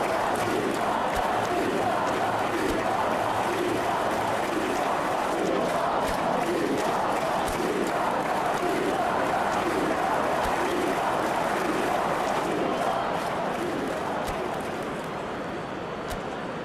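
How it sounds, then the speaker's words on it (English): Football stadium crowd in a video game match, a dense, loud roar of murmuring and jeering that stays steady and sustained throughout, swelling slightly in places with restless, frustrated energy and no clear commentary over it. "You can hear the annoyance in the crowd."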